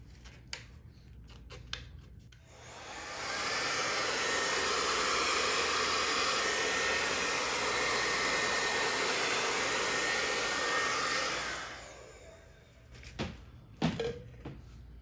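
A blow dryer pushes poured paint across a canvas in a Dutch pour, a steady loud rushing hiss that starts after a few quiet clicks, holds for about eight seconds, then cuts off, followed by a few knocks and taps.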